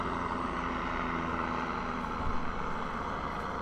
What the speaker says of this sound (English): Pardon the helicopter flying directly over the telescope right now.